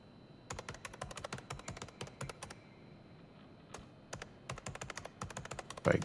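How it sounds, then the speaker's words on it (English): Rapid bursts of typing on a computer keyboard, clusters of crisp key clicks separated by short pauses, close and clear. "Fake typing."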